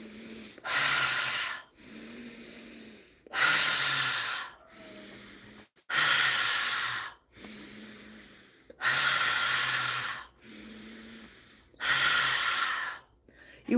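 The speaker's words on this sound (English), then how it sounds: "You're breathing, deep breathing, like a child breathes" Deep, full breaths taken over and over in a guided breathing exercise, loud and close, each long airy inhale or exhale separated by short pauses in a steady rhythm, with no talking.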